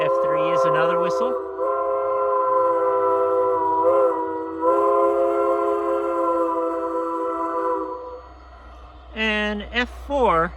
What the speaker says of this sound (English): F3 is another whistle.